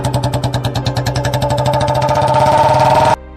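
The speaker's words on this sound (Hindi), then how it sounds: "बाहर बुलेट बाइक की तेज आवाज सुनाई देती है" A Royal Enfield Bullet motorcycle engine thumps in a steady rapid rhythm outside, loud and close, building slightly before cutting off abruptly near the end.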